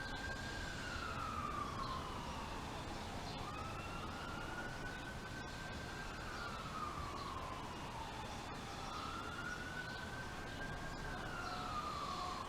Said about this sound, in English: Got that nice ambulance or police siren coming down the street